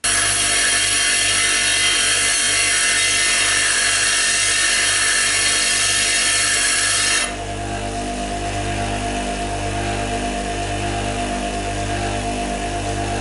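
Grinder sharpening a tool for a home-made tool post, a loud steady motor whine with harsh high grinding that cuts off midway, leaving the motor running on alone.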